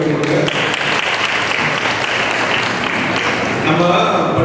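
An audience claps at an anniversary debate in a church, loud, close and sustained, with a speaking voice running over it.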